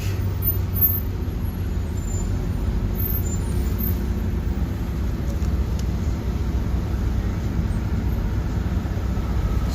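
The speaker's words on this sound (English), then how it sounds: "Yeah, lots of traffic" Heavy street traffic in Flushing, Queens, with cars and buses rumbling past in a dense low roar and faint high brake squeals, a constant, fairly loud wash of engines with no talking.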